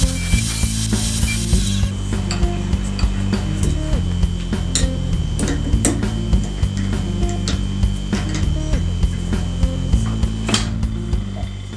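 Wood spins on a lathe while a roughing gouge cuts a tenon for the chuck, giving a steady close mechanical hum with a rhythmic scraping chatter throughout.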